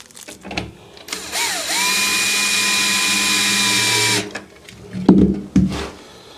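A power drill drives a screw through a heater into the wall of a wooden deer stand, a steady close whine for about three seconds that rises and then cuts off, with a few knocks after.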